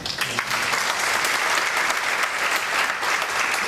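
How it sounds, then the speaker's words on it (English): Steady applause from an audience at a health and safety forum, a dense, even wash of many hands clapping that holds at a constant level throughout with no talk over it. "We have a nice round of applause."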